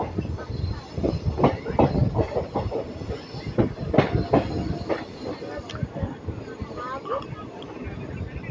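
Palanadu superfast express train rolling slowly along the rails past a station, with rhythmic wheel clatter and rumble close by, occasional squeal, and a voice talking over it.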